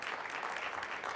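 Audience at the National Press Club applauds steadily in a dense, even burst of clapping, brief and fairly full, with no voices over it.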